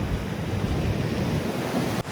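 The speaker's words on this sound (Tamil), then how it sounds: "ஃபுல்லா சரியான அலை வந்துருச்சு." Ocean waves break on the shore near an Australian village, a loud, continuous roaring surge of surf and wind that fills the short stretch before dropping off abruptly at the end.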